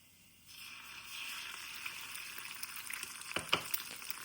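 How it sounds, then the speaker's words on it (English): An egg dropped onto an oil-glazed stainless steel pan starts frying: the hiss begins abruptly and holds as a steady bright sizzle, with a few louder pops and crackles near the end. "try this way by dropping a little egg on its surface, which is glazed with oil"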